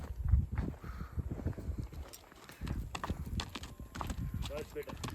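A horse's hooves clip-clop on hard ground at close range in an irregular walking rhythm, with voices of people talking over much of it.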